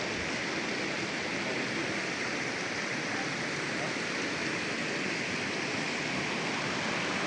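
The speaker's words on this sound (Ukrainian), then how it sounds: "ми зупинилися біля водоспаду невеличкого" Small waterfall on the Bestrets mountain river in the Carpathians, a steady broadband roar of rushing water that stays even and close for the whole stretch, with no voices.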